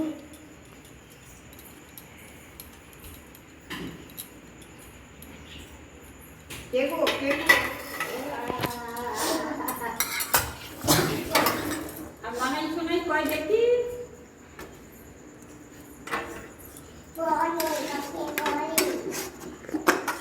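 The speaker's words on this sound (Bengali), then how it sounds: "টিফিন বক্সে ভালো করে দইটা মাখিয়ে নেব" A spoon clinks and scrapes against a metal tiffin box while curd is stirred and mixed for homemade yogurt in a home kitchen, with irregular metallic knocks in bursts and voices talking at times.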